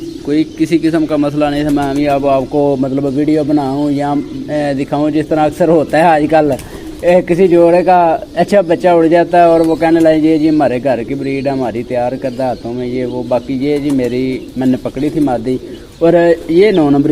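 Pigeons coo softly in the background at a rooftop loft where a caught hen and a cock are kept, mostly masked by someone talking continuously throughout.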